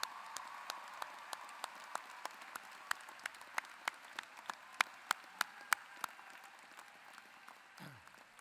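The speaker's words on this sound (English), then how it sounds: "please stand and join me in applause" Sparse, faint clapping at a university commencement ceremony, with individual claps spaced out and ringing distinctly in a large quiet space, thinning out toward the end.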